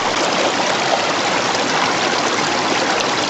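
Continuous dense rush of water pouring through a gold-panning sluice as a gallon of dirt is washed along, loud and steady throughout with no voices.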